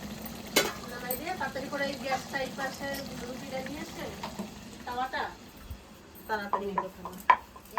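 Chili chicken stirred and frying on a clay tawa for a naan dinner, with soft sizzling under a spatula scraping the pan and occasional utensil clinks, while people talk over it throughout.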